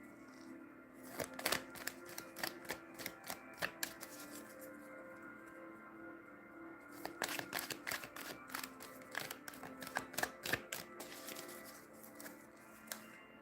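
A deck of tarot cards is shuffled by hand with butterfly riffles and split cuts, giving quick bursts of crisp card flutter and snaps in two main flurries, close and fairly quiet, over a faint steady background hum.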